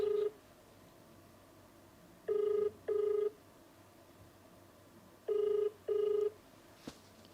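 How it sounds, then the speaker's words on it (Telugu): An outgoing phone call rings back through a speaker, two pairs of short electronic ring tones with a pause between them, steady and clear over a faint background hiss. "రింగ్ అవుతుంది."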